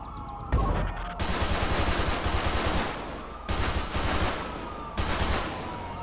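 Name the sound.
gunshots at car tires in video game GTA 5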